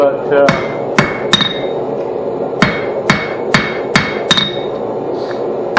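A blacksmith hammers hot metal while forging a pair of tongs, sharp ringing blows landing one at a time in an irregular rhythm, loud and close with a metallic ring after each strike.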